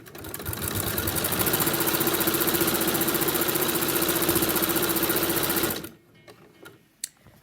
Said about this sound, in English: I like to give a slightly longer length when I'm doing top stitching, so I've set my machine to